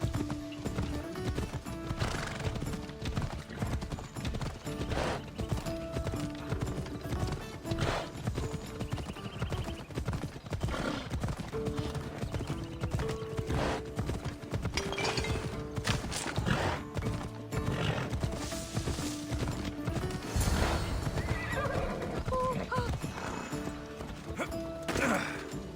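Horse hooves clip-clopping at a steady run with occasional neighs in Assassin's Creed Odyssey, a dense rhythmic galloping under game music and ambient noise, with some speech.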